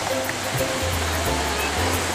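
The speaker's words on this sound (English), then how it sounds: "You pour the water into the middle." Water poured from a bucket into the middle of wet sand for a sandcastle, a loud, continuous rushing gush close by, with a low hum underneath.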